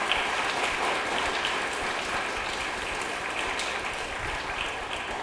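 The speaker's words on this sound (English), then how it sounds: "I'd love to give you a round of applause" A graduation ceremony audience gives a dense, continuous round of applause, steady and fairly loud throughout, with no voices over it.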